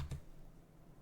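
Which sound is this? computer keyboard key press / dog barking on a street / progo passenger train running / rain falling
computer keyboard key press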